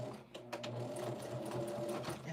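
Sewing machine stitching a quilt square, a steady close mechanical whir with rapid needle ticking running continuously and evenly throughout, no talk.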